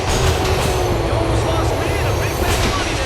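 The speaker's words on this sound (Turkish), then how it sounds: "Geldi tren, tren geldi." A train in a GTA video game rumbles in loud and close, a heavy continuous roar with faint squealing overtones, while a person talks over it.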